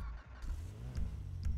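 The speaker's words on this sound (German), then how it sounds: "Und dann Motor an." A car engine in GTA V cranks and starts, giving a low rumbling turnover with a couple of brief revving bursts. It plays close and steady with no talking.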